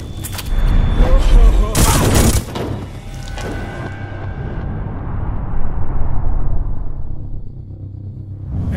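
Gunfire in the stealth game Hitman: Absolution comes as a dense, loud burst of shots and booms near the start. A long, fading rumble of reverb follows.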